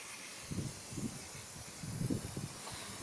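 Oven cleaner is sprayed onto old aluminium in two short clusters of hissing bursts, close and moderately loud, with no talking.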